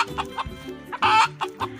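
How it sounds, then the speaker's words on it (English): A hen clucks in a run of short, repeated calls with a louder, drawn-out squawk in the middle, close and clear with no talking over it. "Look at this. This is hen."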